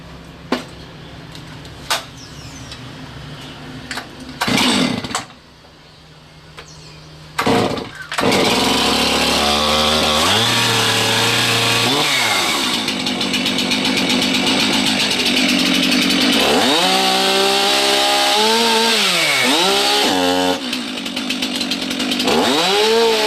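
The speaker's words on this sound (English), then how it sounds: "Okay, chainsaw check is complete." A chainsaw sputters briefly, then roars to life and runs loudly and continuously, its pitch rising and falling as the throttle revs.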